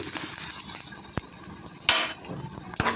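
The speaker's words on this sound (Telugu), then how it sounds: "జీలకర్ర వేసి కొద్దిగా వేగనిచ్చి" Green chillies and cumin seeds fry in oil in a kadai for a coriander-tomato chutney, making a soft, steady sizzle with a couple of sharp metallic clinks from the pan and no voices.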